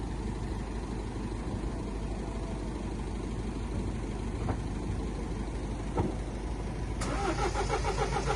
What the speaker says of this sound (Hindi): रिकवरी वाला ट्रक आ चुका है, गाड़ी को लोड करके ले जाएगा